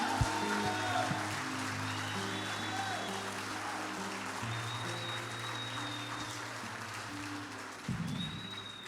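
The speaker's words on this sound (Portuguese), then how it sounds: "uma salva de palmas para o nosso Deus" A church congregation applauds after sung praise, sustained crowd clapping under lingering organ or keyboard chords, with a louder burst near the end.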